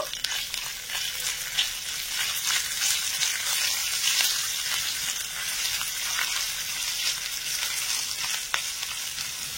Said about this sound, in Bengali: একটু নেড়ে ছেড়ে ফোড়নগুলো ভেজে নেব